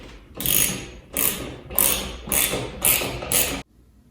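A socket ratchet drives bolts into a flat-screen TV wall mount, giving six quick, even bursts of dense clicking close by, then stopping abruptly, with no talking.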